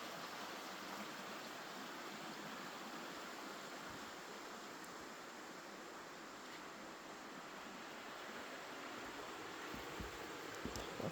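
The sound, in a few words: Sandy Creek stream flowing below the house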